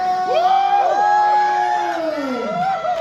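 Crowd at a Red Bull street dance battle qualifier in Cebu cheering and whooping loudly and steadily, with high rising shouts and screams layered over a continuous roar.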